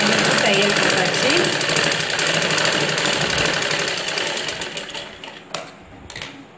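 An electric sewing machine stitches two joined pieces of a ladies' blouse with a loud, rapid mechanical chatter that runs steadily, then slows and stops in short bursts near the end. A voice is heard speaking during it.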